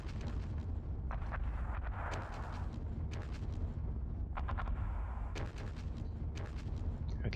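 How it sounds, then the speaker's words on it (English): Distant German artillery fire in the Panzer Battles wargame, a run of dull booms and crackling impacts over a steady low rumble, spread across the stretch with no talking. "Some German artillery fire coming in here."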